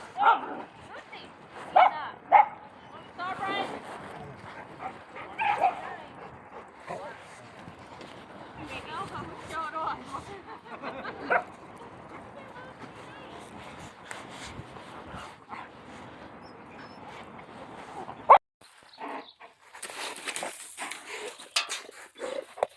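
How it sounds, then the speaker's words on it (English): Dogs at a dog park bark in scattered, sharp bursts and give a few whimpers and yips, at varying distances, while a person talks intermittently over the outdoor background. "Watching the dogs."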